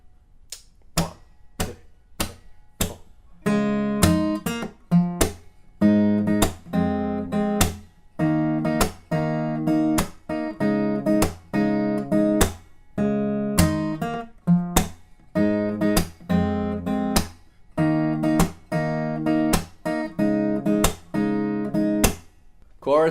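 Acoustic guitar playing chorus riff 1 of a song, alternating sharp percussive muted slaps with bursts of picked chords in a steady syncopated pattern, close and clear with no voice.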